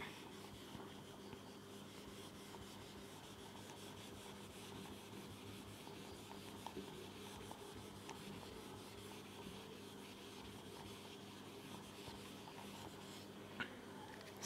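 Soft, steady scratching of a pen writing chemical formulas by hand, faint and close, with continuous strokes and no talking.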